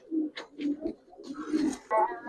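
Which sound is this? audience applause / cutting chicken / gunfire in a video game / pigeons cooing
pigeons cooing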